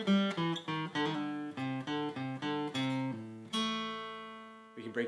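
Electric blues guitar riff with crisp picked notes and chord stabs in a steady rhythm ending on a long ringing chord, played alone and close.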